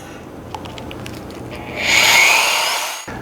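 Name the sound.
electric drill with paddle mixer mixing primer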